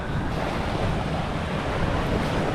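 Ocean waves crash onto a beach at San Jose, Occidental Mindoro as a dense, steady roar of surf, with wind buffeting the microphone throughout and no talking.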